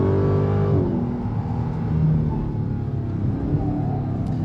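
A 2023 Dodge Challenger Black Ghost with 807 horsepower accelerates hard in track mode. Its loud engine roar holds steady, then the pitch shifts briefly about a second in and carries on as a continuous drone.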